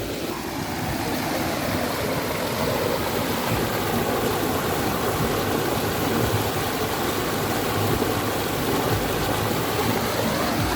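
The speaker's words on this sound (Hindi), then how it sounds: "पानी की नेचुरल आवाज़ जो है," Clear stream water flowing near Dharamshala, a loud dense continuous rush and babble that stays steady throughout, close by with no pauses.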